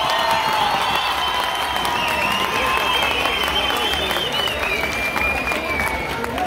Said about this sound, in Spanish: ¡el aplauso!